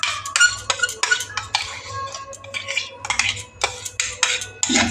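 Ground mung dal batter for dosa being mixed, with repeated scraping and clinking of a spoon against a bowl in an uneven, close rhythm and brief pauses.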